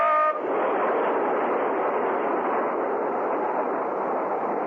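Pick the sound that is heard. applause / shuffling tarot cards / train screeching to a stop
train screeching to a stop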